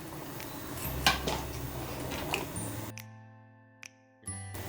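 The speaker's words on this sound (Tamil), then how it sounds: "இதில் நம்ம முருங்கைக்காய் சேர்த்துடலாம்." Drumstick pieces dropped into a pot of boiling kuzhambu in a home kitchen, a few sharp clinks and knocks against the pot over a steady simmering bubble, then near-silence broken by a couple of light taps.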